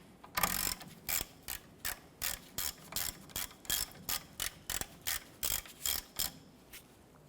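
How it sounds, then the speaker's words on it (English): Ratchet loosening the 14mm caliper bracket bolts on a 1990s Ford Ranger front brake, a steady run of about fifteen evenly spaced, crisp clicking bursts, close and alone. "We're going to remove our two 14mm bolts holding our caliper bracket to the knuckle."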